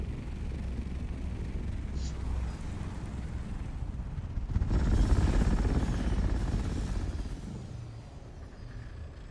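A flying vehicle in the Dune Awakening video game drones with a rotor-like whir as it drops altitude, surging louder halfway through before settling back to a steady hum.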